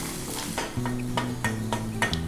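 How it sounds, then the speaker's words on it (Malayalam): Chopped shallots sizzling in hot ghee in a pan while being stirred, a steady frying crackle with intermittent scrapes and clinks of a utensil, close and clear, no talk. "ഇനി നമുക്ക് ഇതിലേക്ക് അരിഞ്ഞു വെച്ചിരിക്കുന്ന ചെറിയ ഉള്ളി ചേർത്ത് കൊടുക്കാം"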